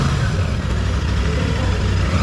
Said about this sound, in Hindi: एंड बाइक का साउंड अगर मैं आपको सुनाऊं एग्जॉस्ट का, एकदम साइलेंट और प्यारा साउंड है भाई